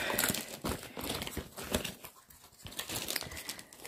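Close, continuous crinkling and rustling of plastic wrapping as a cross stitch kit package is opened, with brief tearing sounds and no talk.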